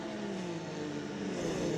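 Race car engine in a racing game on the Nordschleife, a steady droning whine held at constant revs, fairly quiet and continuous with no talk.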